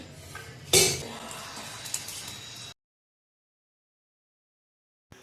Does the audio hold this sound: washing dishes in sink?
yes